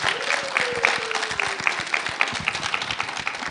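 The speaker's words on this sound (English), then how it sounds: "So please, clap for them again." An audience claps for the organizers at a Ghana College of Pharmacists event. The applause is fairly close and dense with distinct individual claps, and a brief faint tone or voice rises under it near the start.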